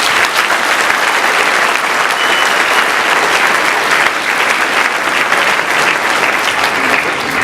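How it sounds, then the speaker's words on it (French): A hall audience applauds nurses and doctors, thick sustained clapping from many hands, loud and even for several seconds with no talk over it. "je souhaite une bonne main d'applaudissement pour vous"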